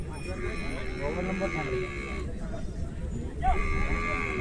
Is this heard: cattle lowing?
yes